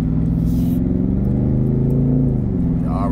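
A car accelerates on a road as the driver pushes it, a loud, close engine drone rising steadily in pitch over a few seconds with a faint shift near the end.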